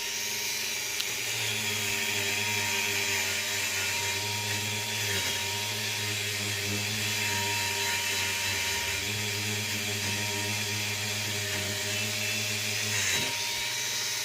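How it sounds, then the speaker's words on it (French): A Dremel rotary tool spinning a steel wire wheel gives off a steady, close, continuous motor whine with a low hum underneath and a brief dip partway through. "J'éteins la Dremel sinon ça fait trop de bruit."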